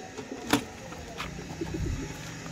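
Pigeons kept by a bird keeper give low soft coos close by, brief and intermittent, with a sharp tap and light handling noises among them during a Basant festival outing.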